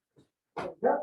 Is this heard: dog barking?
yes